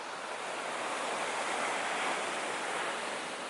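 Ocean waves roll onto a beach on the Oregon coast in a steady, full surf wash that swells gently midway, with some wind buffeting the microphone and no voices.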